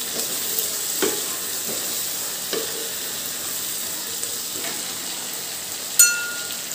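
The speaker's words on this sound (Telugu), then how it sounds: "అలాగే పసుపు కారం ఇవన్నీ యాడ్ చేశాం కదా బాగా ఫ్రై చేసుకోవాలి" Prawn curry fries in a pan with turmeric and chili powder, giving a soft, steady sizzle with occasional stirring clicks and one sharp clatter near the end.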